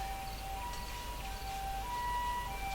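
An ambulance siren wails in the distance, its two-tone pitch alternating steadily over low background hum, with no voices.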